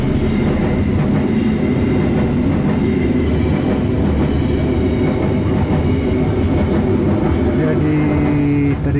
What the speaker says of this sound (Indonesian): Lokomotif CC206-1736 SDT dari Sukabumi ke Bogor dan dari Jawa Tengah di hari Rabu tanggal 16 September 2024.